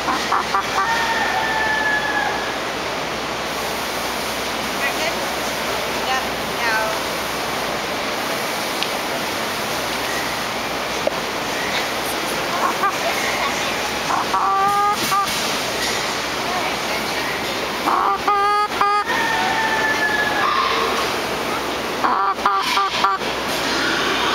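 Chickens cluck and crow during a bath, with short harmonic calls and a few rooster crows over a steady hiss of running water. A voice speaks briefly near the end.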